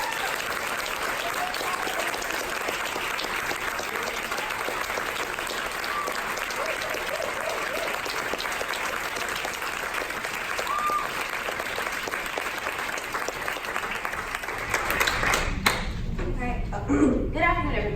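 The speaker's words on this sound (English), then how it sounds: "could you all give a huge round of applause as our kids come on stage?" Large audience applause at a school event as children come on stage, a dense steady wash of clapping that runs for most of the stretch before fading out, with a voice starting to speak near the end.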